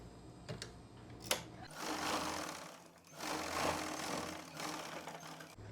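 A sewing machine runs two steady stitching bursts through the lining joint of a blouse, a close, continuous mechanical whir with brief pauses and a couple of sharp clicks before it starts.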